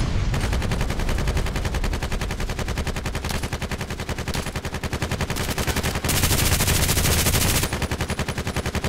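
Sustained rapid machine gun fire from an RPKT in the online shooter Contract Wars, a dense continuous stream of loud shots with almost no break for the full length, no voices over it.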